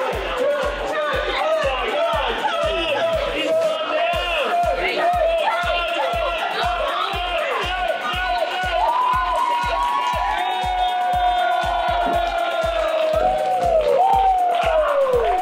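A restaurant crowd at a Cinco de Mayo feast cheers and shouts in a loud, dense mass of many voices, rising and swelling over a steady pounding beat that runs throughout.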